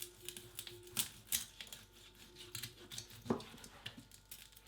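A knife cuts through crispy crackling on Danish roast pork, flæskesteg, giving a run of close, crisp crunching and cracking taps, quick and irregular, with no talk.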